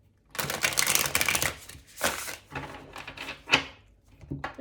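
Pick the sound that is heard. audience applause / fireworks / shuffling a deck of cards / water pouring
shuffling a deck of cards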